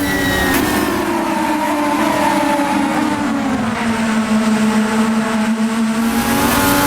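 An IndyCar race car engine in a video game drones steadily at high revs, its pitch dipping slightly then climbing again, continuous and close throughout.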